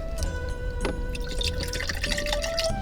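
Water being poured into a pot to boil for instant udon inside a Nissan NV200 camper van: a steady, close pour with splashing and dripping.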